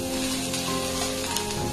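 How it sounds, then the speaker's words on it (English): Steamed cabbage shallow frying in a pan over a low simmer flame for a South Indian pachadi chutney, a steady soft sizzle heard alone. "I'm just going to shallow fry it till it is slightly done"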